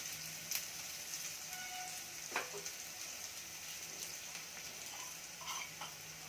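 Oil and asafoetida sizzle in a pan as a tempering for kandi pappu rasam: a soft, continuous crackling hiss, fairly quiet, broken by a few sharp pops and light stirring clicks, with no voices.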